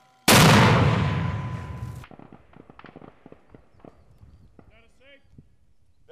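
A Fuji Viper mortar fires a single half-load round at a range, a sudden loud blast that decays over about two seconds, followed by quieter shuffling and handling sounds, with brief voices nearby.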